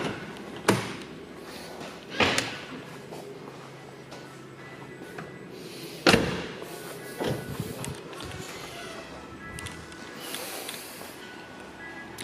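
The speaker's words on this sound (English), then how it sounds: "I will open the boot so you can see the engine." Sounds around the rear engine lid of a mint 2008 Porsche 911 Turbo 997 with a six-speed manual: a few sharp thumps and clunks spaced apart, one loud slam-like hit near the middle, with faint handling noise and footsteps in between.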